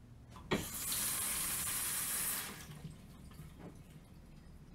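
Tap water runs into a glass for about two seconds, a bright hissing splash that starts with a clink and then stops, leaving a quiet room with a faint knock afterward.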